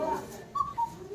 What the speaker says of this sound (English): So when we play them together, we have a cuckoo sound.